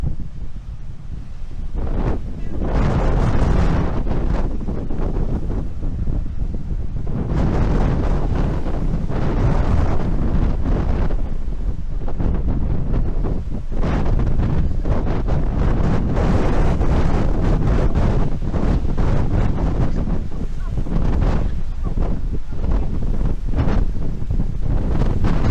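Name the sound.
strong wind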